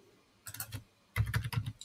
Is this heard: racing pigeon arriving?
no